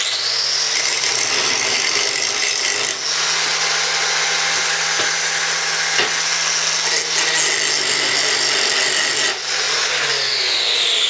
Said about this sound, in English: I'll just clean this one up with the grinder and we'll see what we've got